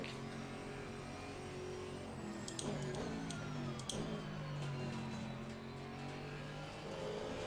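Aston Martin GT4 race car engine in the racing simulator Assetto Corsa Competizione, a steady low engine drone with rising and falling revs and gear changes, continuous and moderately loud throughout with no talking.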